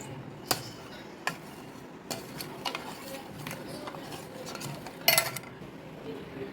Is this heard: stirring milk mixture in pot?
yes